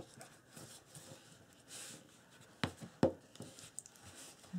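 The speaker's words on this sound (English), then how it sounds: "kind of burnish right here a little bit" Paper is burnished with a bone folder while an album is being made, giving soft, intermittent scraping strokes, quiet and close, with a few sharper taps and rubs toward the end.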